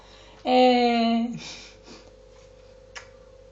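A grumpy house cat lets out one long, loud meow up close, followed by a few faint sounds over a low steady hum.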